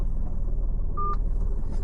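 Phone dialing tone inside a ride-hailing cab in Pune: one short, clean keypad beep sounds midway over a low, steady car-interior rumble.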